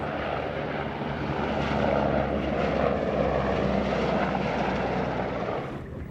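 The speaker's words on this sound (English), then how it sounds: "another helicopter is over in the harbor practicing with the Sambro" A helicopter flies over the harbor on a Coast Guard and Department of National Defense joint exercise, its engine a loud, steady rotor roar that holds strong before easing slightly at the end, with no voices.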